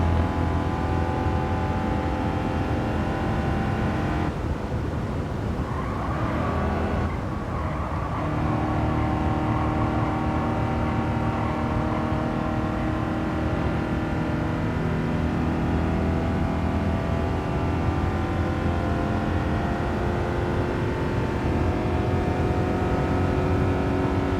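Race car engine on a qualifying lap in Gran Turismo 7, a loud sustained high-rev drone with pitch rising and falling through gear shifts and braking, continuous with no speech.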